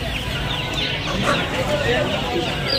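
Native hens clucking amid the steady hubbub of a busy poultry market, dense overlapping bird calls and crowd noise running continuously, with voices talking in the background.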